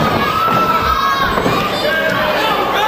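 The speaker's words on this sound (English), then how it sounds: "Crowd getting behind Batts." A wrestling crowd at a CCW event cheers for Mikey Batts in a dense, loud, sustained roar of shouting voices with high-pitched yells throughout.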